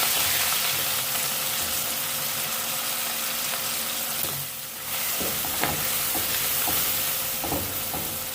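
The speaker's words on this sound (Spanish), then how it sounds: "Vamos a dejar que eso fría." Wheat locrio ingredients sizzle steadily in a hot pan, a constant hissing fry broken once by a short dip and a few stirring clinks and scrapes toward the end.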